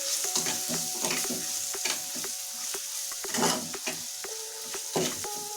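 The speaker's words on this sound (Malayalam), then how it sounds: "ഒന്ന് ഇളക്കുക." Spices fry and sizzle in a pan for fish head curry while a spoon stirs and scrapes in quick repeated strokes, close and steady with no talk.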